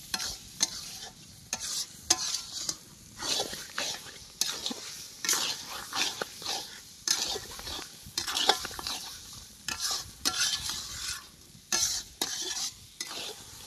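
Mutton marinated in sour yogurt sautéed in a pot, with repeated rhythmic scraping stirs of a spoon against metal over a continuous close sizzle, the stirring strokes coming in uneven bursts throughout.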